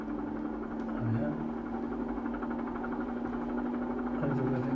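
A Bell 47 helicopter engine drones steadily and over-revs, a constant heavy hum with a strong tonal whine, heard from inside the cabin under occasional talk.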